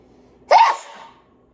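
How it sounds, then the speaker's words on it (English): A single sharp sneeze bursts out close up after a moment of quiet, then fades. "Hold on, I gotta sneeze."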